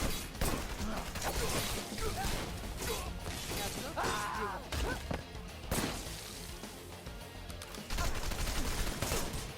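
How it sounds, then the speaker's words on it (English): Enemy gunfire in the action game Wanted: Dead, with a bunch of enemies shooting down from a tower: dense, continuous volleys and bursts of shots with crashes and clanks, loud throughout under game noise. "Bunch of guys shooting down from that tower."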